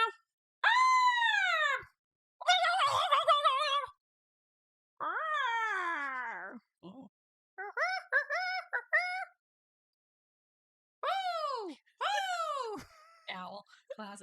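Human voices imitate an owl, giving a series of rising-and-falling hooting calls in short bursts separated by silence, some brief and some drawn out, loud and close.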